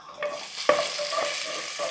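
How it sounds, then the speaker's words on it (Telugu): Mustard seeds, cumin, fenugreek, dried red chillies and crushed garlic crackle in hot oil for a sambar tempering, a bright close sizzle with a few sharp spoon clicks and stirring scrapes over two seconds, no speech. "పోపు వేస్తున్నాను. 1 టీ స్పూన్ ఆవాలు, 1 టీ స్పూన్ జీలకర్ర, కొద్దిగా మెంతులు, ఒక 4 ఎండుమిరపకాయలు,"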